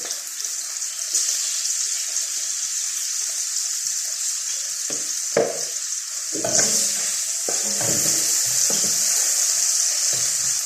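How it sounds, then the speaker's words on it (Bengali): Lightly salted leafy greens sizzle steadily in a pan, close and constant, while a spatula stirs and scrapes in irregular bursts over the frying. "কিছুক্ষণ নেড়ে নিচ্ছি।"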